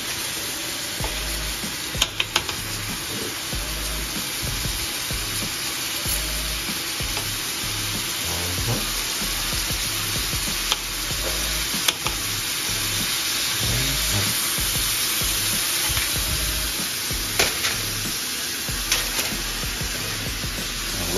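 A New York strip steak sears in butter in a hot pan, giving a steady, loud sizzle and crackle that runs without a break, with a few sharper pops and spits.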